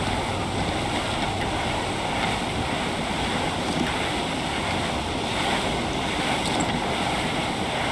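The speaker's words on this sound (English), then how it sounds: "There's a strong wind now." Strong wind and ocean waves at sea aboard a sailing ship in Assassin's Creed Black Flag, a steady broadband roar of surf and gusting air with no break across the stretch.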